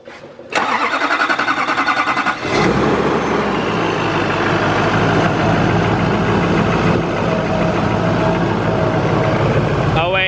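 A rebuilt Duramax diesel engine cranks briefly, catches and then runs loud and steady, a rough rhythmic clatter continuing with no pauses.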